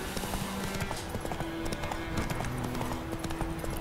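Horse hooves clip-clop in steady rhythm while riding in The Witcher 3 game, a clear mid-level clatter over a background bed of in-game ambience, with no one speaking.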